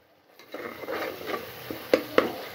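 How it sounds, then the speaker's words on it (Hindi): Food frying and being stirred in a pressure cooker, with a low sizzle under scraping spoon strokes against the metal pot and two sharper clinks near the end, close by with no talking. "देख लो क्या फ्राई हो रहा है"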